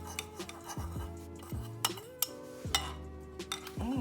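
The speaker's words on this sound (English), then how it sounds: "I'm going to take these, I'm going to mix them in together very well" Spoon or utensil clinking and scraping in a bowl while mixing Tony's Cajun seasoning with garlic powder, salt and pepper for blackened catfish, close, irregular metallic taps and stirring rubs with no talking.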